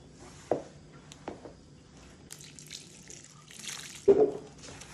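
Water is poured and splashes into flour for bread dough, coming in a few short, soft bursts with quiet gaps between them.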